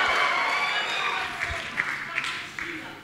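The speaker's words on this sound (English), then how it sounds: "Give Jesus an applause." Congregation at a church service applauding after a healing testimony, a broad wash of clapping from a crowd that fades gradually, with a few sharper claps near the end.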